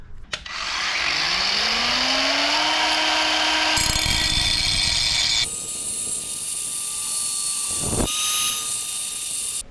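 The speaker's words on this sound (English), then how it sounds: "After a bit more chopping and drilling," Power drill and cutting tool working on an accelerator cable bracket for an LS1 engine swap in a VN Commodore, a loud steady whine rising in pitch, then a harsher cutting tone with a short burst near the end.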